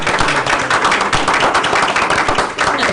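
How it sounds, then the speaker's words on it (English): Applause from a school board meeting audience at a district administration center, a loud dense wash of clapping that stays steady for the whole stretch with no voices over it. "So let's give them a round of applause."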